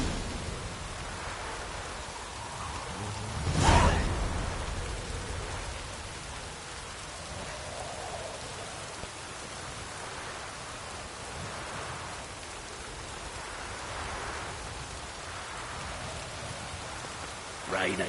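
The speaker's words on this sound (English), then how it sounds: "Rain again." Steady video game rain hisses throughout with soft drops pattering, broken by a brief louder rush near the start and faint sounds in the background.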